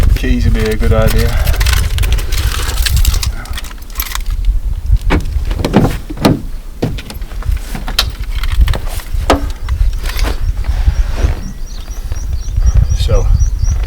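A set of car keys jangles close by in scattered bursts beside a parked car after a run, with a voice talking intermittently around the metallic clinks.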